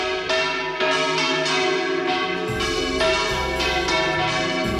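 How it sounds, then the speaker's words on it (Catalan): Several church bells ring together in a full, overlapping peal from the parish bell tower of Bocairent, Spain, on a feast day, loud and resonant, with repeated strikes layering into a continuous clangor. "I de sentir el vol general de les campanes degut a la festivitat d'avui."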